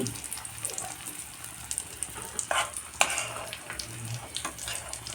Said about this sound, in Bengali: আলু মটরের সবজি দেওয়া হচ্ছে বেসনের আমলেটটাতে